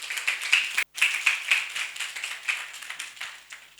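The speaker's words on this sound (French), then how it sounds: "On applaudit, s'il vous plaît." Small audience clapping at a Malagasy poetry reading café event, steady scattered claps close by with a brief gap near the start, no talk.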